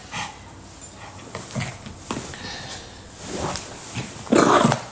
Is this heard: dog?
yes